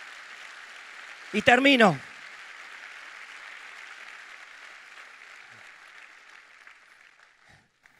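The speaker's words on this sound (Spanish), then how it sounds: "Vamos, denle un aplauso, no se ponga tímido ahí." A church congregation applauds in a steady, sustained wash that slowly fades out, with a brief spoken phrase near the start.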